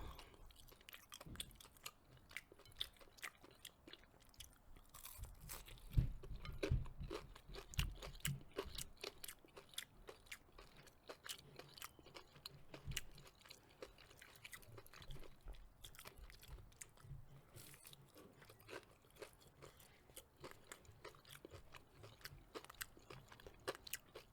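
Close, crisp crunching of fried food being chewed, repeated bites and crackling textures in an irregular rhythm, fairly quiet with no talking.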